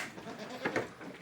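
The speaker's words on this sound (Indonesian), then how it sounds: "Nih ada kambing semi PE nih, kan PE biasa nih" Peranakan Etawa crossbreed goats on a farm give a couple of short, fairly faint bleats close together against quiet background noise.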